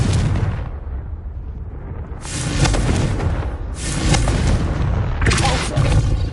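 Repeated Confringo fire spell blasts from the Hogwarts Legacy video game, three loud booming bursts with broad rumbling tails spaced about a second and a half apart over continuous low background rumble.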